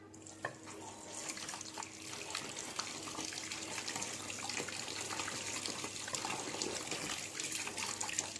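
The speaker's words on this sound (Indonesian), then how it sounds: "Setelah itu kita bilas." Running tap water pours steadily as hands are rinsed under it, a close, continuous splashing trickle into a sink with no talking.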